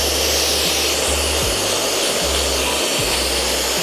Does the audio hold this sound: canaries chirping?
no